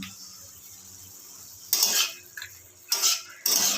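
Fried lentil dumplings are stirred into radish greens in a pan: after a quiet stretch, a few bursts of scraping and clinking from a utensil against the pan follow close and clear.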